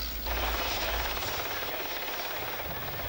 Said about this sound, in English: And helicopters. This is a Westland Whirlwind from the search and rescue flight at RAF Valley in Anglesey.